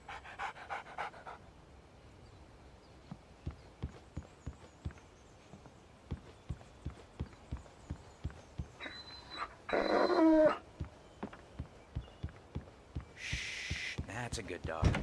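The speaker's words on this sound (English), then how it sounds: "Shh, that's a good dog." A dog pants rhythmically and steadily in the video game Alan Wake, quick close breaths repeating throughout, broken by a couple of brief louder noises midway and near the end.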